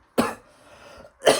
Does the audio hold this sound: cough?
yes